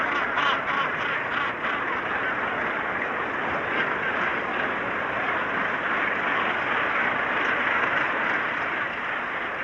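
A huge gannet colony of about 20,000 birds on white-streaked coastal rocks in Europe, a dense, continuous roar of overlapping harsh calls at steady loudness with no pauses.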